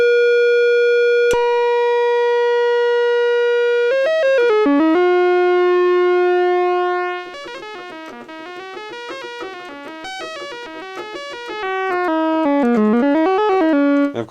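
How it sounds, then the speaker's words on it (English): A Roland SH-3A synthesizer plays a square wave with pulse width modulation, sustained buzzy tones shifting in timbre, then a run of stepped melodic notes, loud and alone. "It is not only pulse width, but it's pulse width modulation with its own oscillator in there generating the speed."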